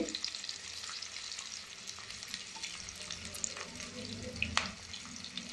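Onions and green chillies frying in hot oil in a pan, a steady dense sizzle with occasional stirring clinks and crackles, continuous and close, with no talking.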